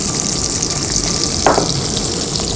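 Shallots, dried red chili and garlic fry in hot oil in a pan, giving a loud, steady sizzle throughout with a brief louder crackle midway.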